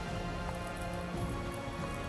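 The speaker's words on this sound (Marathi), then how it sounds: "तर पाऊस जरा कमी झालेला आहे" Light rain falls steadily along a Western Ghats waterfall trail, a soft, even hiss heard from under tree cover, faint and continuous with no talking.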